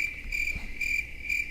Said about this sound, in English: you heard the freaking cricket